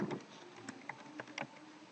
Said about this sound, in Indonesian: misalnya kita ngetik di sini nama